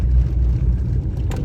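A car drives slowly on a snow-drifted road through a ground blizzard in the Asekeevsky district of Orenburg region. A steady low road and engine rumble is heard from inside the cabin for a brief moment.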